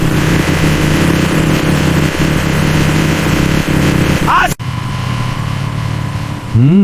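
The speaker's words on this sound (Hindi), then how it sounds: "बेटा मोटरसाइकिल आहिस्ता चलाओ," A motorcycle engine runs steadily and loud throughout, with a rough low drone and a brief rising rev near the end, as an elderly passenger rides along on a village road.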